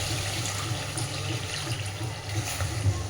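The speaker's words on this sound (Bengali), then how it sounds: "এই পর্যায়ে আমি দিয়ে দিচ্ছি কিছুটা জল" Water poured into a spiced fish curry (shahi katla) makes a steady splashing, rushing pour, close and continuous for about three seconds with no talk.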